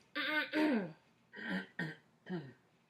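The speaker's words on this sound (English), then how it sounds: "And clear your throat kind of like this" Throat clearing on request during a bedside swallowing evaluation, several short, raspy bursts, close and distinct, separated by brief pauses.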